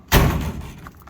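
The door of a vintage blown big-block Barracuda race car shuts with a single solid thump, close and loud, followed by a short rattling decay.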